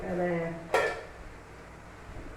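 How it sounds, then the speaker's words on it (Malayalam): A slotted metal ladle scoops fried herbs out of hot oil for a traditional herbal hair oil, giving one sharp metallic clank against the pan, then quiet, with faint tonal sounds just before it. "ഇതാ ഞാനിത് കണ്ണോപ്പോണ്ട് കോരി എടുക്കുകയാണ്."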